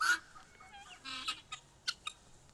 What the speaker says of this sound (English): my guineas are particularly loud and dramatic.